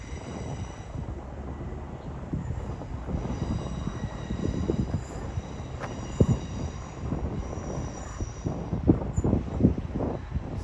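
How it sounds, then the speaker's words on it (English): A Class 387 electric train runs past Didcot Parkway station on the Great Western Main Line, a steady mid-distance rumble of wheels on rail with rhythmic clatters building through the pass and no voices. "here goes beloved 387 off to somewhere"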